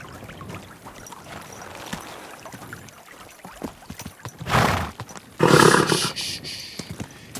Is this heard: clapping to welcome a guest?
no